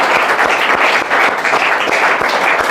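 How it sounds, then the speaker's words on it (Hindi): An audience claps loudly and continuously, with dense applause sustained throughout, cheering on a village school student at a school event in Churu district. "जोरदार तालियों से शत्रुघ्न का"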